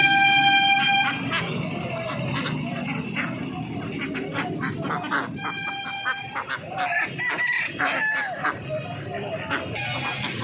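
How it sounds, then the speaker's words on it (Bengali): Many desi chickens in netted sacks cluck and squawk close by in a busy outdoor hen market in Uluberia, with a rooster crowing, occasional vehicle horns and faint crowd murmur behind. "এই জালের বস্তার মধ্যে দেশি মুরগি রয়েছে প্রচুর"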